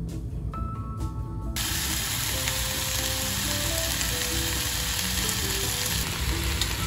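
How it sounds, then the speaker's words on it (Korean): Steady frying sizzle of tofu noodles in a pan fills the clip, loud and close, with background music running underneath. "제가 지글지글 소리에 깼는데."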